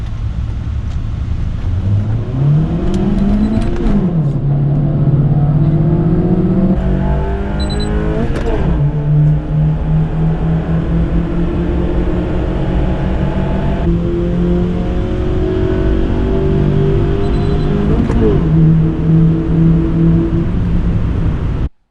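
A GK5 Honda Fit pulls away and accelerates hard, the engine note climbing and dropping through several gear changes, loud and steady throughout with no talk.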